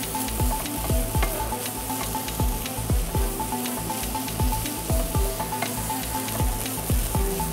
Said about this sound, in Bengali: আমি এখন এখানে আরেকটু ঘি দিব, 2 চামচের মতো দিয়ে দিব।